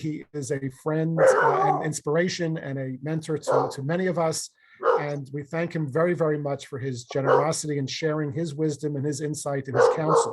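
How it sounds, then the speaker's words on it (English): A dog barks repeatedly in the background of a room while someone speaks continuously over it, the yips and barks partly buried under his voice. "Pardon the dog in the background."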